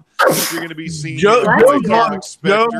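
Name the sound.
sneeze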